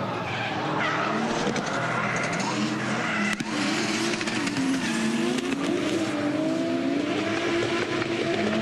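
Drift cars at the Nürburgring run nose to tail in a tandem drift. Their engines wail and tires screech without a break, loud and close, with rising and falling engine pitch. No voices can be heard.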